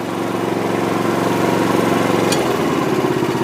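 A Harbor Freight 65162 trencher engine runs steadily at about 2,500 RPM, a loud, even small-engine drone with a slight pitch drop and brief high click midway, no voices.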